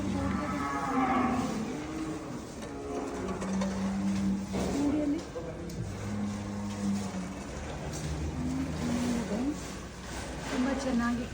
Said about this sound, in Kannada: ಕಾಮಧೇನು ಗೋಶಾಲೆ.